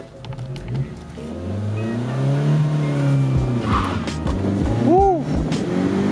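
A 10th-generation Honda Civic fitted with a K&N high-flow air filter accelerates hard in second gear. The engine note climbs and revs close by, with a brief tire chirp and faint voices inside the car.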